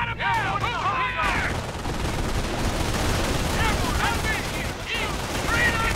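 Sustained machine gun fire and other shots rattle on without pause through a Company of Heroes battle, loud and dense, with brief voice barks at the start and end.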